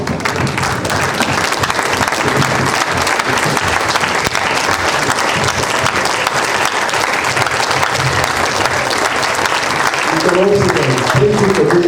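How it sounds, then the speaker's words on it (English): Applause from an audience clapping for lecturers at a departmental entrepreneurship lecture, steady and dense throughout, with a few voices briefly audible near the end. "please let me clap for all your lecturers here once more"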